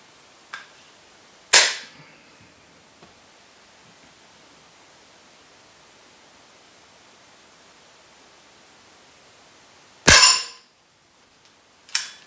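Several sharp, isolated shots from a Weihrauch HW75 air pistol, spaced irregularly with long quiet gaps between them, each a crisp close crack with a short tail.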